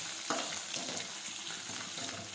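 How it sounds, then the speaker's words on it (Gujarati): Boiled potatoes sautéing with cumin in a pan for a Gujarati potato curry, giving a steady, even sizzle and crackle throughout, close up, with no talking. "બટાટા નાખી દઈશું બાફેલા. હવે આ રીતે સાતળી દઈશું."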